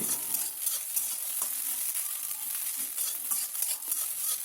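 Egg bhurji sizzles and fries in a pan as turmeric is stirred in, a steady hiss with soft scraping strokes from the stirring utensil throughout.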